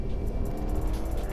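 A BMW X2 with a fault, driven on a race track, gives a steady low engine drone and rumble that stays loud and close throughout as it pulls under acceleration.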